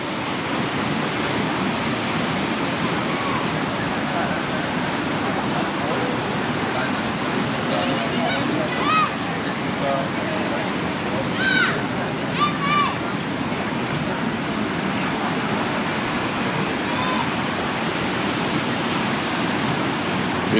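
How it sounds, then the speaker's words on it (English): Steady broadband wash of surf rolling in continuously at Paguera beach, Mallorca, at dusk, with faint bird chirps and distant voices near the middle. "Hear the sound of the rolling waves."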